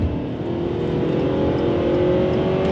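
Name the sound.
Ford Maverick turbocharged inline-4 engine accelerating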